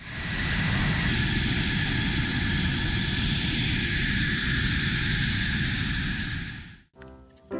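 Toy fighter jet making a loud, steady engine roar with a whining tone, sustained for several seconds before cutting off abruptly, followed by a short clattering rattle.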